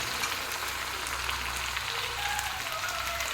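Chicken pieces fry in a pan with onion and spice masala paste, giving a steady, dense sizzle throughout with faint crackles over a low hum, no voices.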